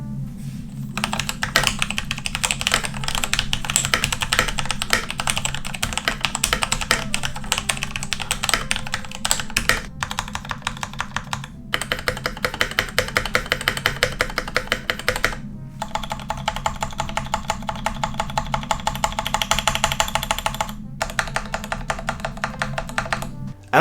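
Typing on an AZIO FOQO PRO mechanical keyboard produces a steady, close stream of clacky keystrokes with a slightly rattly backspace key, continuing for over twenty seconds with a few short pauses.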